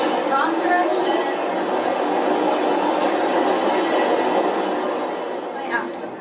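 Train rolling along rails during a transit transfer makes a loud, steady broadband rumble and rush throughout, with faint squeals and clicks near the end.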